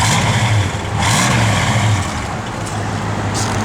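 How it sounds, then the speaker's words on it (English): A 1969 Ford Mustang Mach 1 V8 engine rumbles steadily up close, with a couple of brief revs swelling and easing back over a low, continuous idle. "Go ahead and give it a little rev, Nathan."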